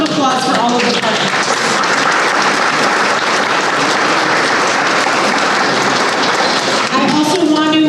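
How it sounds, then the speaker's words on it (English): An audience at a Lawrence City Council election forum gives the partners a full, sustained round of applause. A voice is heard briefly at the start and again as the clapping ends. "So a round of applause for all of the partners."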